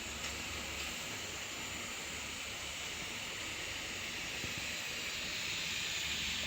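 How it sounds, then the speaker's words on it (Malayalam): A pressure cooker hisses steadily while rice cooks, a continuous airy steam sound at moderate distance that holds almost unchanged throughout. "കുക്കറിൽ ചോറ് വേകുന്നുണ്ട്"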